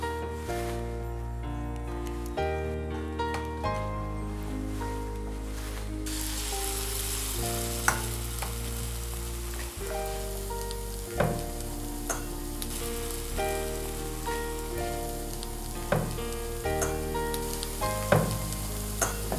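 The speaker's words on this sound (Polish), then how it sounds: "To ty może smaż placki" Radish pancakes frying in a pan, a steady close sizzle running throughout with soft stirring clicks and light taps, under quiet background music and no talk.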